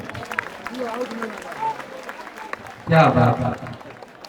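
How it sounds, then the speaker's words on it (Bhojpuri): An audience at a Bhojpuri devotional stage performance breaks into loud applause in honour of their mothers, a short burst of clapping that follows quieter crowd noise and a brief spoken exclamation. "एक बारी अपना अपना माई खातिर ताली बजा दे।"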